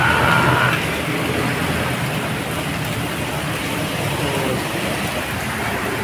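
Steady rain falls on a wet Tuesday morning in Pasig City, a dense, even hiss of drops that stays constant throughout with no voices.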